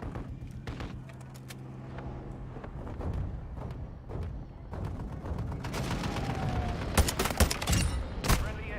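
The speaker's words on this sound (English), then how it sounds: "Hostile mortar strike in the area." A hostile mortar strike rains down in Call of Duty: Modern Warfare II, with scattered booms and gunfire thumping near and far. The impacts grow denser and louder toward the end over constant battlefield noise.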